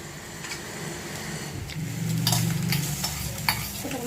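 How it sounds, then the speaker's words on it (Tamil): Boiled pasta is tossed into an egg masala in a pan, producing a low steady sizzle with a few scraping stirs and a brief louder tap near the end. Close and without voices. "ஸோ சூப்பராக பாஸ்தா நம்ம மிக்ஸ் பண்ணியாச்சு"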